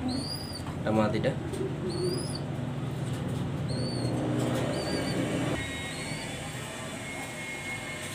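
Soft cooing from a flock of uncommon pigeons kept for sale rises near the start, then gives way to a steady rumbling background noise.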